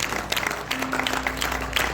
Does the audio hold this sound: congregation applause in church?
yes